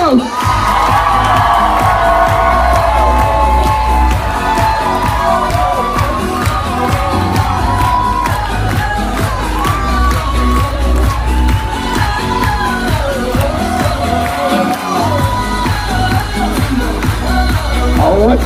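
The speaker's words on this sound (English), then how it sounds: "please keep your applause going for our newlyweds, the new Mr. and Mrs. Robert Colados." Wedding guests at a country club reception cheer and applaud the newlyweds, a loud sustained crowd roar of clapping, whoops and shouts filling the room, with music running underneath.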